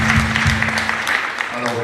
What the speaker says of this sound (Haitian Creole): On applaudit la sœur Fanette et Joseph.